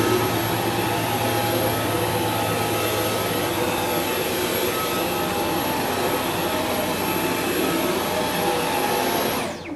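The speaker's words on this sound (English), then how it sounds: "This is the Dyson Animal V11. So easy to use. And it's powerful." A Dyson V11 Animal cordless stick vacuum runs at full power close by, a loud, steady high-pitched whine and roar that holds unbroken for nearly ten seconds before cutting off, with no talking.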